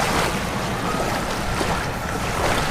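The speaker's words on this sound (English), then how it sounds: "Whoa, waves are getting pretty close." Ocean waves wash up on a beach close by, a steady broadband rush of surf and water with no voices over it.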